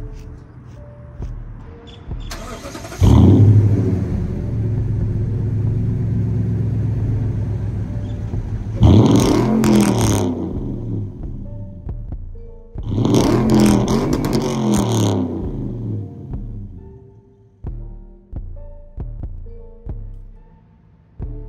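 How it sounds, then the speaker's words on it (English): A 2015 Toyota Tundra 1794 pickup engine revs hard three times, each burst roaring up then settling back to a deep, throbbing exhaust idle. "let y'all hear how this exhaust sounds"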